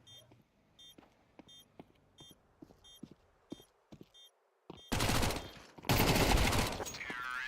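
SMG fire in a Counter-Strike match comes as a run of short, evenly spaced shots with electronic beeps. Louder, denser bursts of game noise follow near the end.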